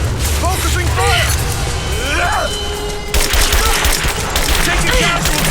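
Gunfire crackles through a firefight in Rise of the Tomb Raider, loud, near and sustained, with a heavier burst partway through, while shouted voices call out over the shooting.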